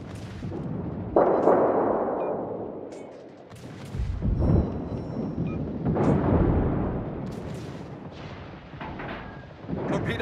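Naval guns in World of Warships fire in heavy, booming salvos, several deep blasts spaced a few seconds apart with rumbling tails, loud and close amid battle noise.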